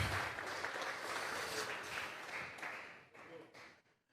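A church congregation claps and applauds during a Sunday service, a dense, sustained wash of clapping that fades out toward the end, fairly faint and distant.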